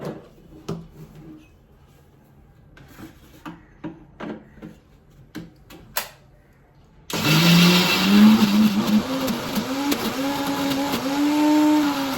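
Soft clicks and handling give way to a loud mixer grinder motor that suddenly starts up and keeps grinding medu vada batter with a wavering, whining hum until the end.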